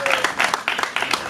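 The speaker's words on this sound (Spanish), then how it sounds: "¡Fuerte los aplausos para Phantom!" Applause from the crowd at a rap battle semifinal, a steady burst of many hands clapping together, loud and close for the whole moment.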